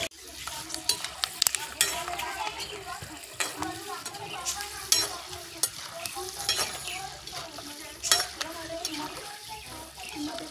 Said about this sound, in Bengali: চীনাবাদামগুলো তেলের মধ্যে দিয়ে দিচ্ছি